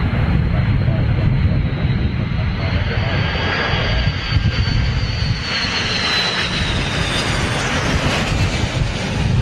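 An Airbus A330 jet flies a go-around after a rejected landing, its engines giving a loud, steady, broad roar throughout, with a faint whining tone sliding above it as it passes.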